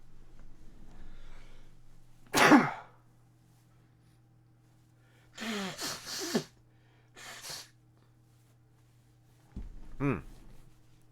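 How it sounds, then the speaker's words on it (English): A single sharp sneeze breaks a quiet room, followed later by a few soft breathy sounds and a brief snort or sniff. "I have to sneeze"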